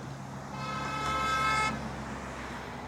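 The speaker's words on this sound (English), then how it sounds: "Got a little honky honk." A single sustained car horn honk lasting about a second, fairly close, with quiet traffic-like ambience before and after.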